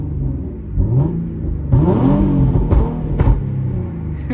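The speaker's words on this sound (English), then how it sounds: "I'm barely tapping the gas and it makes it pop." Infiniti Q50 with a 3.7-liter V6, no catalytic converters and Invidia mufflers, revving lightly with sharp exhaust pops and crackles between throttle blips, close and fairly loud, with no talking.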